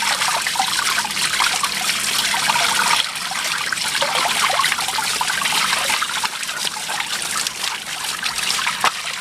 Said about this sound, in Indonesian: Nah pertama-tama si dagingnya kita cuci terlebih dahulu